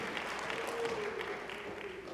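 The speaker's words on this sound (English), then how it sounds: "We'll just clap our hands to him one more time." A church congregation claps hands together in a steady, dense wash of applause that holds evenly throughout, with a faint sustained tone underneath.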